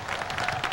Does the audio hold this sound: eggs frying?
no